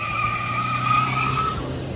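Two diesel cars, a Maruti Swift Dzire and a Maruti S-Cross, launch side by side in a drag race, engines revving hard with tyres squealing loudly throughout and a steady close roar and no talking.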